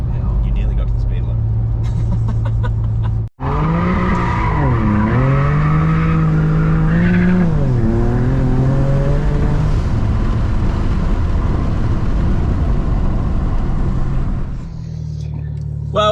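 A BMW with an N54 engine and hybrid turbos accelerates hard, its engine note rising loud and close through gear shifts, with tires squealing under full power, then easing off near the end.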